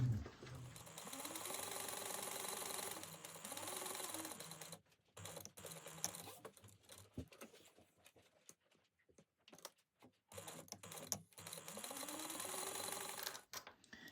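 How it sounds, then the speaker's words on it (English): A sewing machine stitches around the sides of a piece of fabric in two steady, whirring runs at the start and end, with quieter stop-and-start stitching and small mechanical ticks between them. "we're going to sew around the sides"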